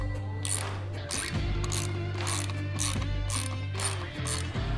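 A ratchet with a T50 Torx bit from a Ford Bronco toolkit works a bolt while the hard top is removed, giving a close, steady series of sharp clicks over a low hum.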